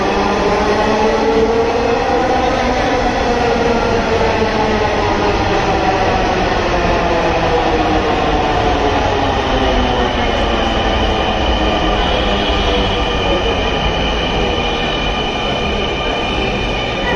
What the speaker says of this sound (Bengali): আমাদের মতিঝিল অভিমুখে ট্রেন চলে এসছে